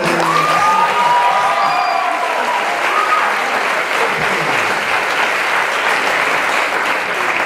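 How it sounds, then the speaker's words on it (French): An audience at a cabaret show claps loudly and steadily, a dense wash of applause lasting the whole stretch with a few whistles and cheers near the start. "On l'applaudit bien fort."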